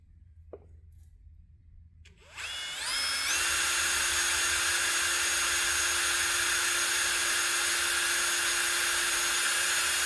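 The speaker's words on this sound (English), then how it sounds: "I'm drilling it slow because this magnesium is super soft" After a quiet start with a click, a power drill spins up and holds a steady, high-pitched whine as it slowly bores continuously into soft magnesium on a VW Type 1 engine, close and loud.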